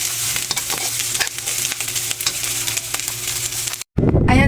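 Onion rice frying in a pan while being stirred, a steady close sizzle with scraping stir strokes, cut by a brief gap before the sizzle returns.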